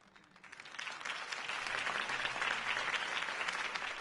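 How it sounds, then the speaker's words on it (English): Applause from a crowd at a campaign speech for Harvey Dent, a dense wash of clapping that swells from quiet to a sustained, even roar and holds steady. "could have heard that applause"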